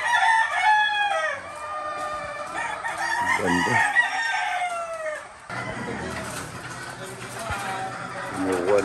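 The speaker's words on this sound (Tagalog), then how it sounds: "Ang daming manok mga idol." Many roosters and chickens on a farm in Indang, Cavite, crowing in long overlapping calls and clucking nearby, loud and steady, with someone speaking over them.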